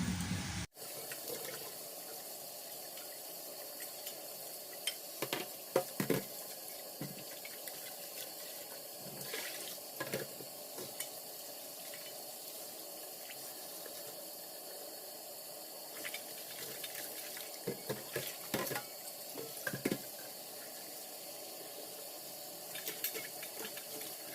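Tap water runs steadily into a sink while asparagus is washed, a continuous close hiss with frequent small splashes and knocks as the spears are handled, and no talking.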